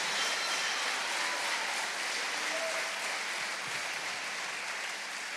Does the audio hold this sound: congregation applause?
yes